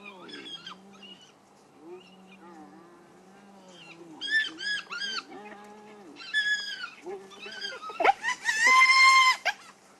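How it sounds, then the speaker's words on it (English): A wild animal cub squealing frantically at a safari sighting: repeated high, harmonic wailing squeals in bursts, growing louder and more intense toward the end, close by over a quiet background. "one of the cubs was squealing frantically now"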